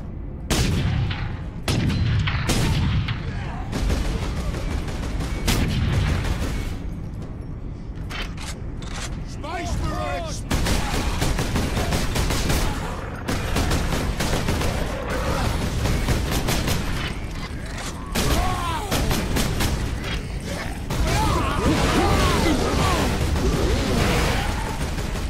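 Gunfire from shooting squigs in Space Marine: continuous loud game audio with repeated heavy shots and booming impacts, dense and near, with someone talking over parts of it.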